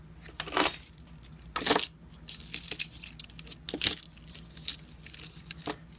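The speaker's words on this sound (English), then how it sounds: "There's some various resident keys and some gate keys." A bunch of house and gate keys, including a vehicle key, jangles and clinks in several separate bursts with short quiet gaps between them, close up and with no voices.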